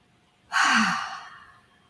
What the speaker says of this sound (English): And then breathe out hard.